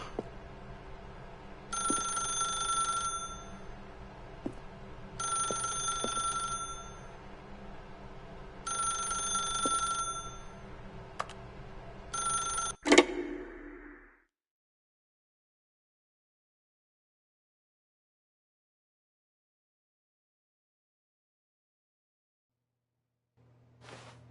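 In The Stanley Parable, a telephone rings four times in an even, repeating pattern over a steady low background hum, then a click cuts it off and silence follows.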